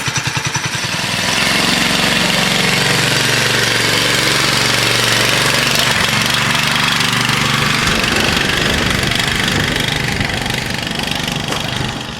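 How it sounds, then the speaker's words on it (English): A go-kart's small engine idling loudly and steadily while warming up after starting, a rapid chugging rumble close by, running continuously for the whole stretch without talk. "we got it started up. We got to let the engine warm up"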